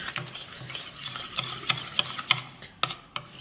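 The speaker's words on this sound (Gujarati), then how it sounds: "ધીમે ધીમે મિક્સ કરતા જઈશું એક જ વેમાં" Henna paste being mixed slowly in one direction in a bowl, soft wet rubbing and squelching strokes with a few sharper scraping ticks, close and quiet with no speech.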